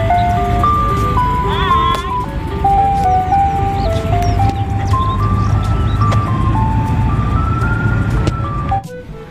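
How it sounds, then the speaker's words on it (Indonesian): A toy ice cream truck plays its bright electronic jingle, a stepped melody looping continuously and loudly for about nine seconds over a low background rumble. "Di sini ada mobil es krim"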